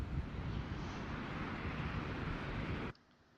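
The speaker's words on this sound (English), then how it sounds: "And we'll turn off our engine." Phenom 100 jet engine in a flight simulator game, a steady broadband roar that runs for nearly three seconds and then cuts off abruptly, leaving a faint low hum.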